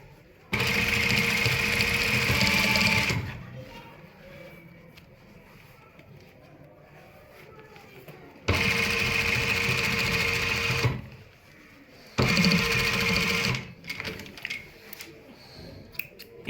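A sewing machine stitches a trouser waistband in three loud, steady bursts of rapid whirring, separated by quieter pauses with faint handling sounds.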